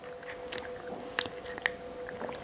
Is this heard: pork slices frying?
no